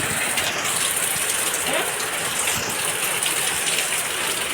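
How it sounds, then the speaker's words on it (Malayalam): Heavy monsoon rain pours outside a home in Kerala, a dense, even hiss of falling water that stays constant throughout, with no voices over it. "ഇന്ന് നല്ല മഴ പെയ്യുന്നുണ്ട്"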